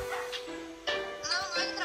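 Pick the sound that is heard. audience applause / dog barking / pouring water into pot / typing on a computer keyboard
dog barking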